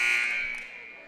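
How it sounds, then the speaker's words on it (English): A basketball scoreboard buzzer at a girls' high school game blares a steady electronic tone for about a second, fading slightly as it holds, with faint arena noise beneath. "I believe that was a little of an inadvertent buzzer"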